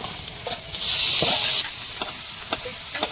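Small salted fish fry in a pan, giving a bright sizzle with a loud hissing burst in the middle, plus utensil taps and stirring clatter close by, and no talking.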